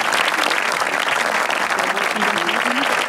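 Dense studio audience applause for team A during a quiz on a Ramadan iftar television broadcast, loud and continuous throughout with faint voices underneath.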